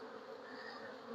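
Honey bees in the lower box of a hive buzz in a dense, steady drone, close and unbroken, with no voices.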